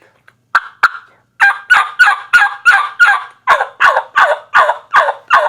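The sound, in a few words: basic hen turkey yelp imitated with a turkey call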